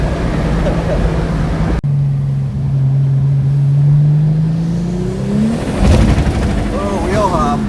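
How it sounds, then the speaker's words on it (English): A green tractor fitted with boost and street tuning revs hard under acceleration, its engine note climbing steadily, then a rough, stuttering burst as the wheels hop, with people talking over the loud drone. "Oh, wheel hop."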